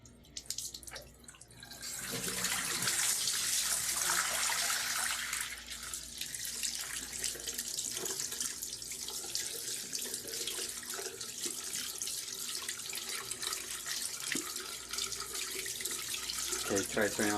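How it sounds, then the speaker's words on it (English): A tap runs during hand washing at a sink, starting after a quiet moment and then flowing as a steady splashing rush that shifts slightly as hands move through the water, with faint background sounds. "try turning off the water"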